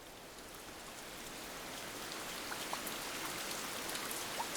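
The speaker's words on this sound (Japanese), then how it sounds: "雨。" Steady spring rain falls on surfaces, a dense, even hiss with scattered droplet patters, moderately close and alone with no voices.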